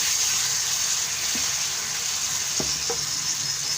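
Halwa sizzles loudly in a pan after sugar syrup is poured in, a constant hissing fry close up with a few soft scraping stirs breaking through.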